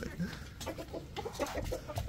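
Chickens cluck in short soft bursts as they come out of their coop, several quick calls close by, with a voice talking faintly underneath.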